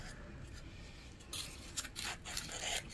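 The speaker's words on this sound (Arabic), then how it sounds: "أنا الآن سأقص هذه" Scissors snipping through paper, a few quick soft crisp cuts in short bursts near the end, quiet and close against a faint background hiss.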